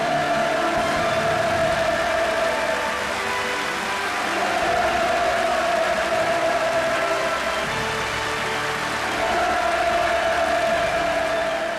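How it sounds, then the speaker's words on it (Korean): A packed hall at the Central Cadres School of the Workers' Party of Korea erupts in sustained thunderous applause and cheering after a commemorative lecture, a dense, continuous roar that never lets up, with music-like tones running beneath it. "박수가 장내를 진감했습니다"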